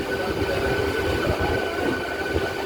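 An EMU local train, the 08003 Howrah to Digha summer special, rumbles steadily as it enters platform 3 at Digha station, a loud, continuous rolling sound with faint wheel noise.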